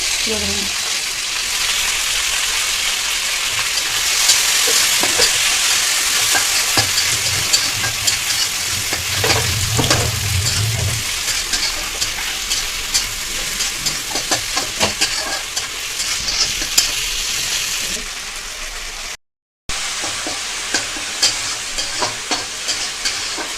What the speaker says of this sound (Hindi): पियाज को लाल हवा पर्यंत भाजीबा